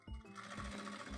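A sewing machine stitches a seam on fabric for a zippered pencil case, a steady, fast mechanical whir with regular low thumps from the needle, close and continuous with no voice.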